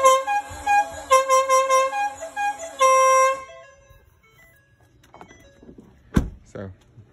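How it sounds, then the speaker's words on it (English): A 2019 Ford Super Duty pickup blasts a cavalry charge melody from its aftermarket horn, loud rising bugle-like notes in quick bursts, then falling quiet before a door-like thump near the end. "So when you push the actual steering horn,"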